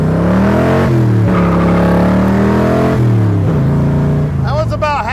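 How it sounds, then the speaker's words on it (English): A 1965 Shelby Cobra with a small-block V8 pulls hard at half throttle, a loud close engine note rising in pitch through two climbs with a brief dip between, ending in tire or exhaust chirps. "That was about half throttle in the small block."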